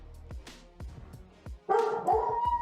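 A pet dog indoors gives a loud, wavering howl with whining yips, rising after a run of soft rhythmic thumps and lasting about a second, close to the microphone.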